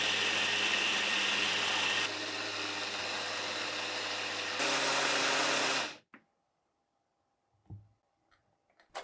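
A blender grinds cold cooked rice with cooled kelp stock into a smooth paste for kimchi, a loud steady whir that changes pitch twice and then cuts off, followed by faint clinks.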